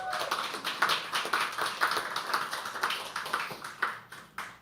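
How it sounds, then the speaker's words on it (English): Applause from a small audience at a live poetry open mic comes as close, uneven hand claps that rise and fall in loose bursts. "Can we all please clap for them?"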